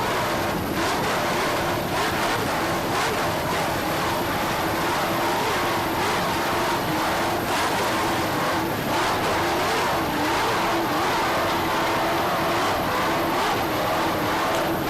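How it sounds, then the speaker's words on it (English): A 38-foot Cougar racing catamaran with twin 700 hp MerCruiser inboards and MerCruiser drives, racing at Key West in 1988, with a loud, continuous engine roar and rushing wind and water noise. "This is a 38-foot Cougar catamaran powered by twin 700 horsepower Merc Cruiser inboards with Merc Cruiser drives."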